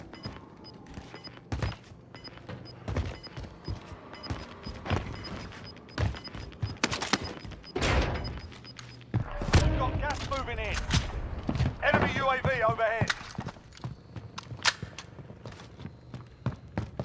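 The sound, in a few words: gunfire in the video game Call of Duty: Warzone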